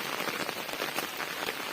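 Heavy rain pours steadily onto a black gram farm field at harvest time, a dense, even hiss of drops with no talking.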